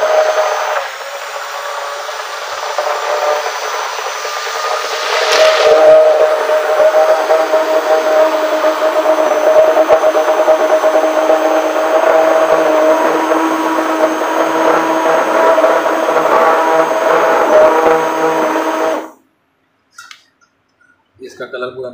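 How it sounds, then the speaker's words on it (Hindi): A mixing machine whirs steadily for nearly twenty seconds as it stirs dish wash liquid chemicals, a loud continuous motorized drone with a faint whining tone, before cutting off abruptly into near silence. "अब इसको जो है मशीन से थोड़ा हम घुमा देंगे"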